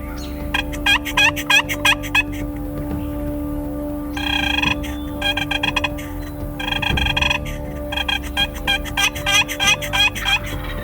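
A wild turkey tom gobbles repeatedly near a roost on a spring morning, rapid rattling bursts in several distinct clusters over steady background birdsong and insect hum, fairly close and loud.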